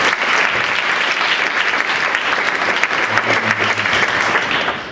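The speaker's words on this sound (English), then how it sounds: "Give her a big round of applause." A hypnotist show audience applauds a female volunteer as she returns to her seat at an after-prom event. Loud, dense crowd clapping runs steadily through the whole stretch with no pause.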